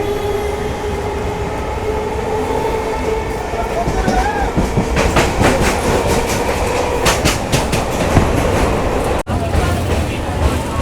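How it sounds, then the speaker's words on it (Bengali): A passenger train runs on the Barddhaman–Howrah chord line after leaving a station, with a steady loud rumble and clickety-clack wheel beats that quicken midway. "ছেড়ে দিল আমাদের ট্রেন বালিহল স্টেশন থেকে"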